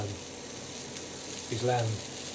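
Minted lamb burgers sizzle steadily in a dry pan with no oil, a constant hissing fry heard close, with a brief voice murmur partway through.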